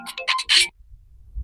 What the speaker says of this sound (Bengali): তোর বাড়ি থেকে ফোন এসছে।